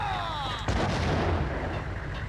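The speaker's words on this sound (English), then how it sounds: "Grenade!" A loud, close grenade blast in the video game Max Payne, a sharp boom that rolls into a rumbling tail over a couple of seconds, cutting through a tonal game sound just before it.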